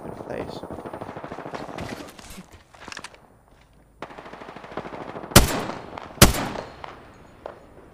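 Gunfire in the video game Apex Legends: rapid bursts of automatic fire, then two loud, sharp shots close together, with footsteps and brief pauses between volleys.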